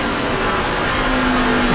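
Onboard a Chevy stock car during the 2009 NASCAR Nationwide Series race at Gateway, its engine a loud, steady roar throughout, with a rising tone near the end.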